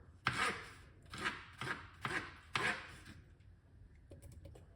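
A knife chops cucumber on a cutting board in five sharp, evenly spaced strokes, close and fairly quiet, followed by a few lighter clicks.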